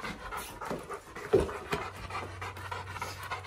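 A trained protection dog pants rapidly and steadily close by, with quick rhythmic breaths continuing throughout and faint background noise.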